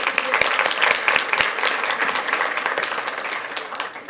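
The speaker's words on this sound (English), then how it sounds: "Let's give them one more round of applause." Steady applause from an audience, dense clapping that holds for a few seconds and slowly tapers off.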